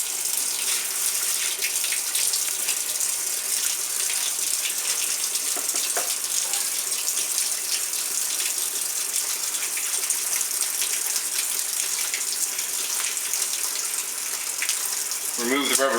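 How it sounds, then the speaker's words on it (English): Steady rushing of water pouring from a tap into a filling sink, continuous and fairly close, with a brief low sound near the end. "usually it's good to let it fill up a little bit so you have some water"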